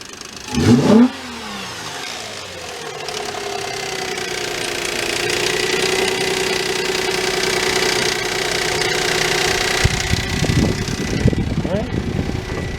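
A car with a V6 3.5 engine at a towing and recovery auction cranks and starts, then settles into a steady running drone as it moves forward and backward, with a person talking over the engine.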